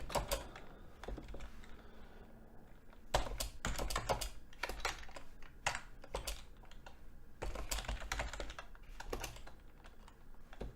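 Rapid bursts of typing on a computer keyboard while writing code, close and clear clicking in irregular clusters separated by short pauses, with no voices.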